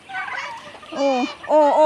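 A couple of loud, nearby turkey gobbles ring out in short bursts, the second and third calls sharper and more tonal.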